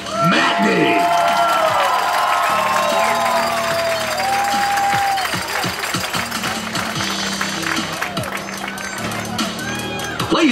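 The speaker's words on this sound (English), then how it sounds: "Ladies and gentlemen, a big round of applause for senior number 12, Austin Magny." High school football crowd at a Greene County versus Casey County game applauding and cheering for a senior player, loud and sustained, with a public address announcer's voice ringing over the noise.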